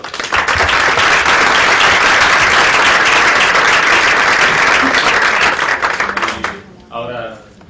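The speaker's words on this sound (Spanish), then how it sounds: "muchas gracias, tenemos un aplauso." Steady, loud applause fills an itSMF conference hall after a talk, with dense clapping for about six seconds that fades out before a single voice starts speaking.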